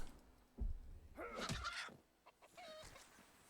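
Chickens cluck and squawk in the RuneScape Dragon Wilds video game, a burst of fowl calls rising near the middle of a short clip with game ambience around it.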